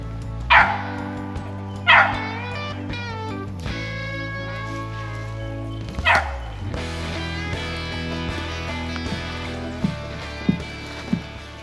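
Hunting dogs bark while chasing squirrels in the woods of Woodville, Mississippi, giving sharp repeated barks and yips over a steady bed of music, some close and loud, others quicker and fainter.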